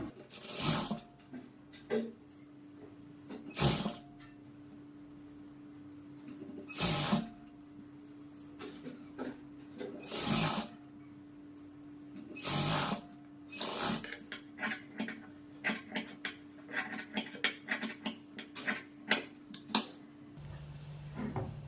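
A sewing machine stitches blouse pieces, its low motor hum running beneath a series of sharp, irregular clacks and knocks that grow more frequent toward the end.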